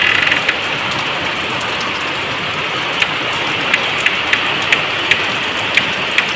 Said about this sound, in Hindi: ये पहली बारिश है जो इतना तेज़ धार बूंदों के साथ हो रही है